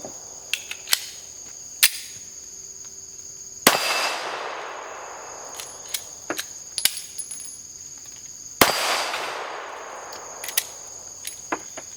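A CR920 compensated pistol fires test rounds: two loud, sharp reports with long ringing decays, plus a few lighter clicks and clacks, recorded close.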